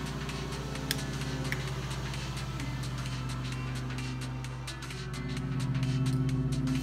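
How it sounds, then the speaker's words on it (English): A lawn mower cuts grass in the background, its engine giving a steady, continuous low drone that swells slightly near the end. No one talks over it. "So you may hear the mower in the background"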